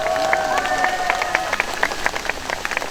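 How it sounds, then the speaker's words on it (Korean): An audience at an outdoor presidential campaign rally in Gwanghwamun Square, Seoul, claps and cheers in a burst of applause, with sharp scattered hand claps over crowd murmur and a voice briefly audible. "다시 한번 큰 박수 부탁드립니다."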